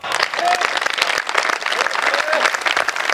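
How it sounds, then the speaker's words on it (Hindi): An audience at a Hindi kavi sammelan poetry event breaks into sustained, dense applause with scattered voices mixed in. "इसमें कोई ताली बजाने की बात नहीं थी।"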